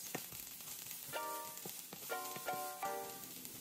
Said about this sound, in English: drizzle a little olive oil and add your green peppers and onion